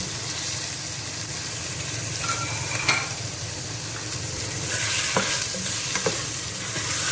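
Boneless chicken frying in a hot pan for egg fried rice, a continuous sizzle with scraping stirs and occasional clinks of a utensil, close and steady with no talking.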